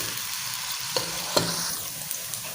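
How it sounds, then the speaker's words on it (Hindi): Onions fry with tomato and ginger in a pan for a camel meat curry, sizzling steadily up close, with a couple of sharp spoon scrapes and knocks against the pan and no voices. "प्याज़ों को कर देते हैं हल्का सा ब्राउन, और साथ में डाल देंगे टमाटर,"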